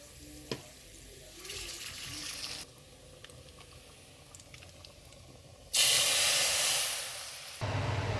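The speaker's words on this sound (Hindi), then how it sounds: "तड़के की आवाज़ तो बड़ी ही ज़बरदस्त लगती है जी।" Loud hissing sizzle erupts as hot oil tempering is poured onto chana dal, surging suddenly, fading slightly, then flaring again close up.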